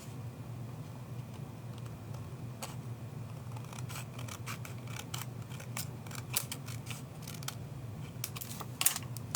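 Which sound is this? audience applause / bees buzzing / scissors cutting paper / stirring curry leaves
scissors cutting paper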